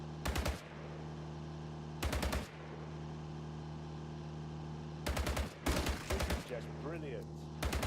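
Short bursts of automatic gunfire in The Grand Tour driving game, four loud rattling volleys separated by gaps over a constant low engine drone, with someone briefly talking near the end.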